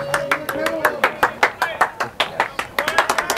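At a baseball game, nearby hands clap in quick, rhythmic bursts of sharp claps, with voices talking over them.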